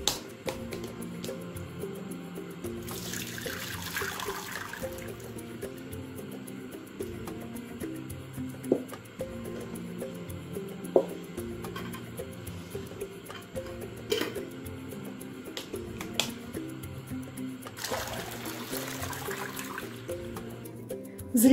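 Pickling water rushes and splashes back into a pot in two brief pours far apart, with faint clinking and kitchen clatter in between.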